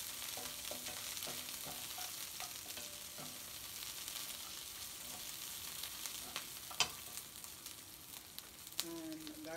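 Onion fries in a pan with a continuous soft sizzle, broken by scattered clicks and light scrapes of stirring and a few faint voice-like sounds near the end.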